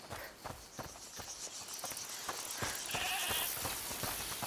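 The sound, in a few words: goat bleating in video game A Plague Tale Requiem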